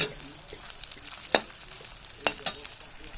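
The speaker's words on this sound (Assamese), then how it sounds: "বৰ্তমান এতিয়া কেৰাহীত মই কাঠালু ভাজিছো" Kathalu chips fry in hot oil in a kadai wok, giving a steady close sizzle broken by sharp crackling pops and stirring clatter, with no voices.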